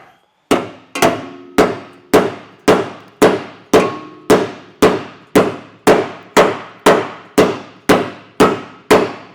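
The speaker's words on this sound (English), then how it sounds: "using a hammer, I'm gonna flatten that little hump that's on the heat shield" Steady, evenly spaced hammer blows flatten a hump on a metal heat shield of a 2024 Ram 1500 during trailer hitch installation, about sixteen sharp clanging strikes, loud and close, with no talking.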